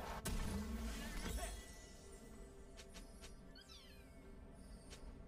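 A cat meows a few times, fairly faint and set back among game sounds and background noise.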